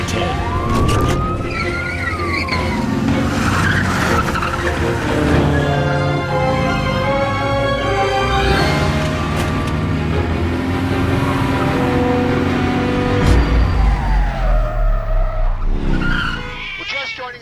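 Police pursuit with cars skidding, tires squealing in long sweeping tones over constant engine roar and a wailing siren, loud and continuous throughout.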